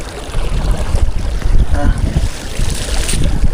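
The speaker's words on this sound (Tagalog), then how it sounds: "Mahangin." Strong wind buffets the microphone with a loud, rumbling roar, steady throughout, out on open water.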